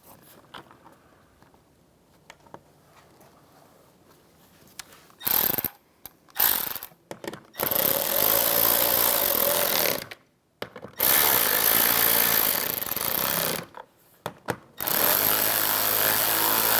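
Power drill driving screws into a 2007-2013 Chevrolet Silverado interior door panel, several loud close-up bursts of whirring and ratcheting, separated by short silent pauses after a quiet start.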